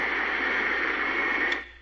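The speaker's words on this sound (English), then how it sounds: "it just plays static" Radio static hisses in Silent Hill 4 during a haunting, a steady, loud wash of noise that runs for about a second and a half, then cuts off abruptly.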